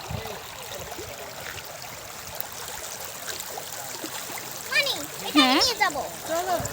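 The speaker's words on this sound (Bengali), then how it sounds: "এটা হচ্ছে সাদা পাথরের ঝর্ণা" Water rushes and splashes steadily at the White Stone waterfall in a hilly area, a constant close wash with children's voices chattering over it toward the end.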